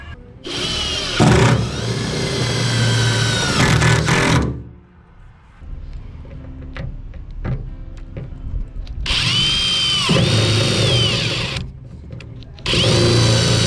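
A power drill drives a screw during work on a city bus conversion, with two long whirring bursts separated by a quieter pause filled with small handling noises.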